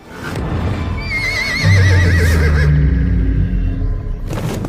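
A horse gives a loud, close whinny with a quavering, wavering pitch lasting a few seconds, over a low rumbling background.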